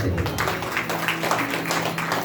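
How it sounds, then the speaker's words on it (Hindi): A steady rush of audience clapping fills a hall during a Shrimad Bhagwat Katha religious discourse, continuous throughout, with a voice carrying over it. "हाँ, ताली बजाओ जरा।"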